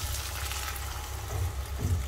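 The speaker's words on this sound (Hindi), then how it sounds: "तो इसमें ऐड कर रही हूँ ये गट्टों वाला पानी" Water left from boiling besan gatte is poured into a pan of fried tikki and potatoes for a curry, giving a steady, soft splashing pour with a few louder gurgles near the end.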